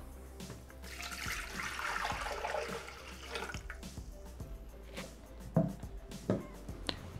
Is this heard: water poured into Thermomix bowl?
yes